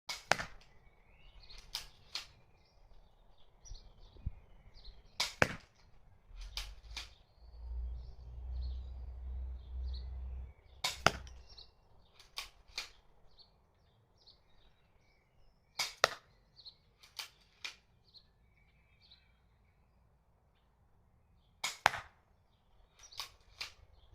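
A Cobra crossbow pistol modified into a tactical carbine fires bolts at a target 50 away, producing sharp, isolated snaps spaced several seconds apart, some in quick pairs, against a quiet outdoor backdrop with faint birdsong.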